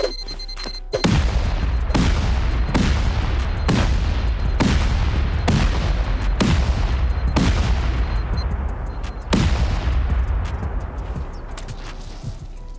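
Video game turrets firing a steady series of heavy, booming shots, about nine evenly spaced blasts, loud and close, alone without talk.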